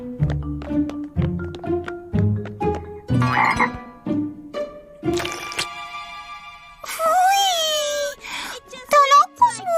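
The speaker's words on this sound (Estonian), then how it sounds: "See on kõigest konn." A frog in an Estonian children's cartoon croaks in a string of loud, separate bubbly croaks alongside cartoon music and effects, with a voice speaking near the end.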